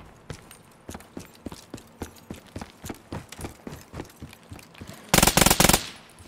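Gunfire in the video game Call of Duty: Black Ops III comes as a steady run of evenly spaced shots, then ends in a short, loud, dense burst of rapid fire.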